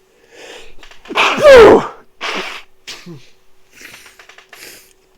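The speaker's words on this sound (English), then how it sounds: "Apologies for keep sneezing." A person sneezes several times in close succession, loud and near, with sharp bursts and short breathy gasps between them and some faint vocal sounds.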